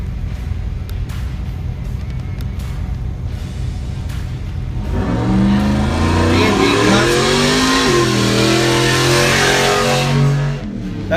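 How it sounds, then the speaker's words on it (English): An off-road race truck in a Pro / Ultra 4 race in Columbus, Montana takes off with a loud surging engine roar rising and falling through revs, nearby, after steady crowd noise, with commentary over it. "Then it was Levi Rhodes just took off in a 4800"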